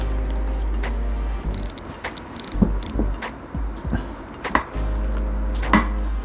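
A knife cuts through a frozen pumpkin protein cake, giving several dull, irregular chopping thuds and scrapes against a steady low background hum, with no voices.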